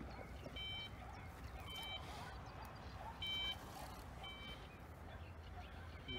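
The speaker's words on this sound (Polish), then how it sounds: "Wyłącz ten alarm." An electronic fishing bite alarm at a carp and grass carp lake beeps in short bursts of high-pitched tones, several separate runs over steady outdoor background noise, with no talk.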